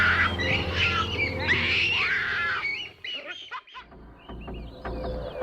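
A troop of animals gives loud warning calls at a predator threat, a dense overlapping chorus of shrill squawks and wails that breaks off into scattered sharp calls, fairly close.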